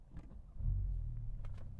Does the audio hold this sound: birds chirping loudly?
no